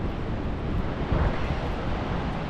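Wind blows steadily outdoors near a Kenworth DAF truck factory in Australia, a dense rushing roar buffeting the microphone without a break.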